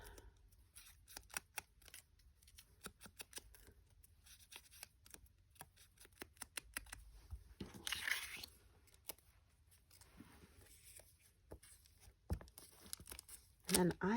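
Paper strips being torn from scrappy Christmas ephemera stock, a series of short rips and crinkles scattered through a quiet room, with a few louder tearing bursts near the end and a voice speaking at moments.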